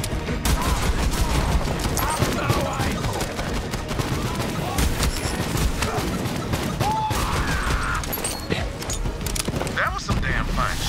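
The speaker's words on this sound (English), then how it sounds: "That was some damn fine shooting." Dense, sustained gunfire in the Borderlands 3 video game rattles almost continuously, with rapid automatic bursts and heavier booms layered together while players talk over the fight.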